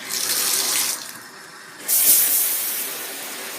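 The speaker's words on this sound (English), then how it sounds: "stick it in the tub, turn the water on." Tap water pours from a bathtub faucet onto a Thrunite T10T flashlight in a simulated rain test, a steady close hiss that dips briefly mid-clip then surges louder with a bright splashing spray.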